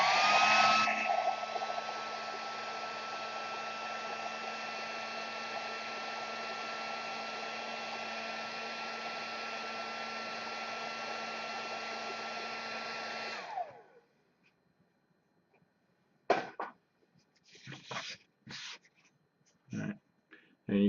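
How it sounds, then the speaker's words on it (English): An air dryer blowing onto a painted surface roars steadily and loud for about thirteen seconds, then cuts off, leaving a quiet room with a few brief bumps and handling noises. "me grab my air dryer"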